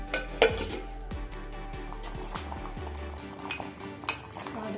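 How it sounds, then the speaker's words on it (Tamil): Metal lid set down on a pot of simmering sambar, a bright clanking clink near the start followed by faint rattles and softer bubbling, close and quiet. "மூடி வச்சுக்கலாம்."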